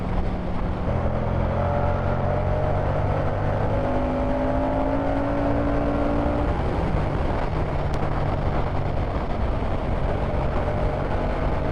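Moto Guzzi V100 Mandello motorcycle accelerating out of bends on a road, a steady engine drone with rising revving tones over constant wind rush, heard from the rider's position with no talking.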